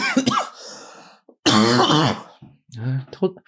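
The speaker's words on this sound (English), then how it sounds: "Told you the coughing spell would come eventually." A person coughs and clears their throat in several rough bursts close to the microphone, with short pauses between them.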